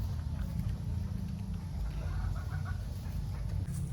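White Kelso gamefowl chickens make soft low clucks against a steady background hum, with faint higher calls in the middle and no talking.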